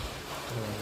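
Heavy rain falls at a temple as a steady, dense broadband wash with no pauses and no talking.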